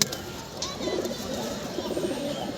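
Pigeons in a loft coo softly and repeatedly, a low throaty burble through the whole stretch against a busy background, with brief chirps mixed in.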